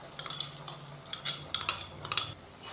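Chicken being stirred into a thickened mixture for bread chicken patties: a few close, light clinks and scrapes of a spoon against the pot in short bursts, quiet, no voices.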